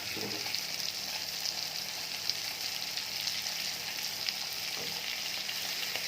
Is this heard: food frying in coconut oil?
yes